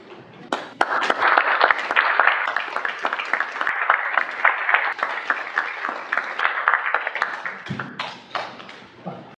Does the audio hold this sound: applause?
yes